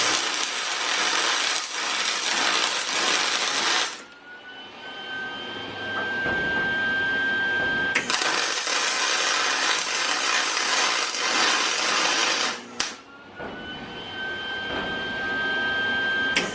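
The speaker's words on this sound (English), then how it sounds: "I wanna leave the camera rolling while I go through and MIG weld that" Aluminum being MIG welded with a spool gun, loud close crackling hiss in two long bursts of about four seconds each, separated by quieter gaps with a faint steady whine.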